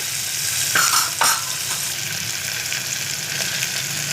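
Green chillies and onion fry in oil for a tamarind-leaf chutney, a loud continuous sizzle with a couple of brief stirring scrapes near the start.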